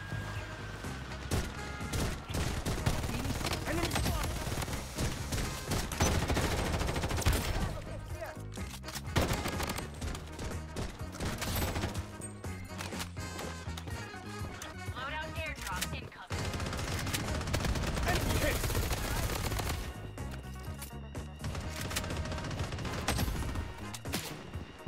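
Dense gunfire in the shooter game Bloodstrike, rapid bursts and volleys of shots overlapping almost continuously with brief lulls, loud and close, with game voice cues mixed in.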